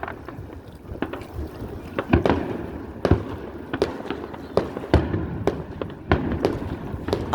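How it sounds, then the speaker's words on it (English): A fireworks show in Antioch, California sends out repeated sharp bangs and pops at an irregular pace, some near and some farther off, over a low rumbling background. "I watch firework videos every day,"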